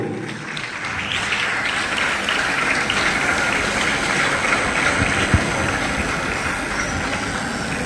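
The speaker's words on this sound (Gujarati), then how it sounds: "આપણે જરા તાળીઓ પાડતા રહીશું." Sustained applause fills a hall during a district-level youth festival at a high school, a dense, even clatter of many hands clapping for several seconds without pause.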